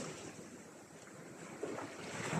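Small sea waves splash gently along a shore with wind buffeting the microphone, a steady soft wash with a slightly louder surge near the end and no voices.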